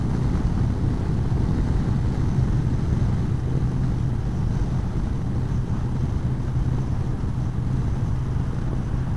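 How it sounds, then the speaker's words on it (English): Steady, dense wind roar buffeting a Shark Evo One 2 motorcycle helmet while riding, with a continuous low engine and road rumble underneath and no speech. "See, the wind there is blowing over,"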